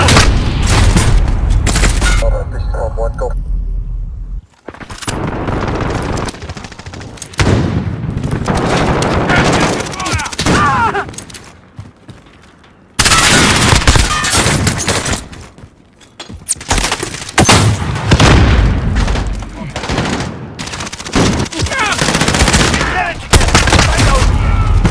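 Dense video game gunfire from a shotgun challenge match fills the scene, with rapid bursts, booming blasts and explosions broken by brief lulls, loud and close throughout.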